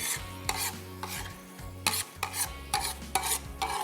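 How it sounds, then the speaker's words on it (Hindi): Crushed roasted cumin and coriander being roasted in a pan for a vegetable katakat, a flat spatula scraping in rapid rhythmic strokes over a faint sizzle, close by with no talking. "इसको थोड़ा सा हमने भूनना है इसी स्लाइसर के साथ।"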